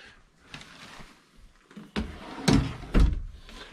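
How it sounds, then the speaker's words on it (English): Ball-bearing full-extension guides on a tiny house nightstand drawer slide and bump in a few short, close runs, with several sharper knocks near the end as the drawer reaches its stops. "the drawers have the ball bearing full extension drawer guides."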